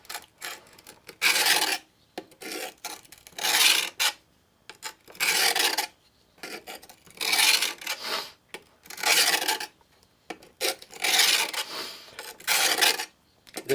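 A knife is drawn across the 200 grit side of a Gordon four-sided diamond sharpener, giving a series of about eight rasping, scraping strokes of roughly a second each, close and fairly quiet, with short pauses between them.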